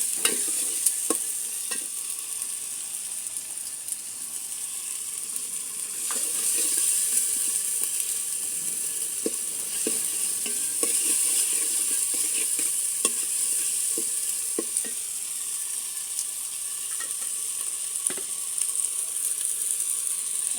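Garlic and ginger paste sizzling in a pan over a village clay stove, stirred with sharp, repeated scraping strokes over a constant bright frying hiss.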